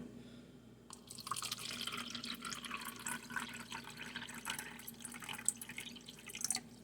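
Filtered room-temperature water poured into a bread machine pan, a close steady trickling and splashing stream that starts about a second in and runs on to the end with small drips and spatters.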